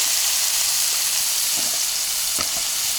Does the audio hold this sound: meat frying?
yes